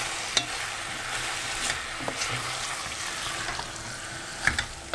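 Peppers fry in a pan over medium heat for a chickpea curry, a soft continuous sizzle under occasional spatula scrapes and light clicks, close and moderately quiet, with no talk.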